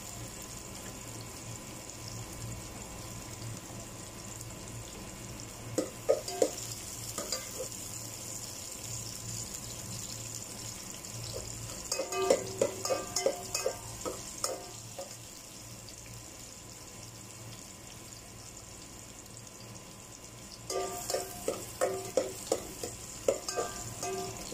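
Ginger and garlic sauté in a pan with a soft, steady sizzle, and bursts of quick rhythmic clatter from stirring come and go in clusters.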